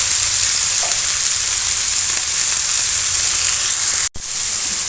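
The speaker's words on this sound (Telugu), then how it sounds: "మనం ఇలా మిక్స్ చేసుకుంటూ ఫ్రై చేసేద్దాం" Cluster beans stir-fried in a small amount of oil, with seasoning, make a dense, continuous close-up sizzle that holds steady throughout before cutting out abruptly near the end; nobody speaks.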